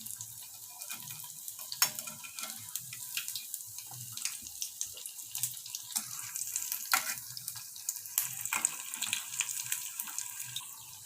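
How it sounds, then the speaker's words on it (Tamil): Vadas made from leftover idli fry in oil in a pan over a medium flame, giving a quiet, continuous sizzle dotted with small crackles and pops, close by and with no talking. "வடையெல்லாம் தட்டி போட்டதுக்கு அப்புறமா நம்ம ஸ்டவ்வை வந்து மீடியம் ஃப்ளேமில் வச்சுக்கலாம்."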